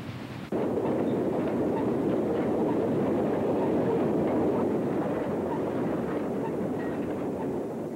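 Chesapeake and Ohio steam locomotives, a K3A and a K3 teamed together, pass near Richmond in 1951, giving a loud, continuous rumble and rolling clatter that swells in abruptly and holds steady to the end, with no voices.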